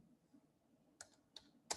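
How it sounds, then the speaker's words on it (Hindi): Three or four sharp keystrokes on a computer keyboard while drafting in AutoCAD, spaced irregularly and quiet against a near-silent room. "DEEP 20 टाइप कर दीजिए और ओके कर दीजिए।"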